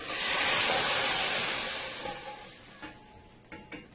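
Toasted garlic poured into a pot of dal for Guyanese-style chicken liver and gizzard gives a loud, broad sizzle that swells at once, then slowly fades into a softer hiss with a few small clatters near the end.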